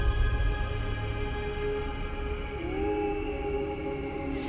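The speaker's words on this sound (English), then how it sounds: "They're literally the sounds of space ringing." Gravitational wave sonification of merging black holes ringing down: low, droning tones that ring and slowly bend in pitch, eerie and sustained like a deep hum, with a rising glide near the end.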